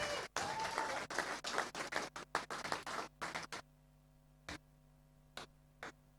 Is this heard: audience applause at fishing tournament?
yes